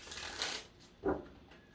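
Tarot cards being shuffled by hand, giving two soft riffling bursts, the first longer and the second a sharper flick, quiet and close with no talking.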